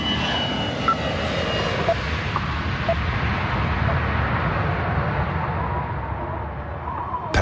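An Airbus airliner takes off, its jet engines producing a loud, continuous roar that holds steady and slowly dulls in the upper range as the aircraft climbs away.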